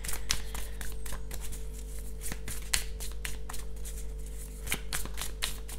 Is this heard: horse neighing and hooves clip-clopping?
no